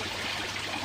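Water flows steadily out of a fish pond filter, a constant close rush with no breaks through the brief moment.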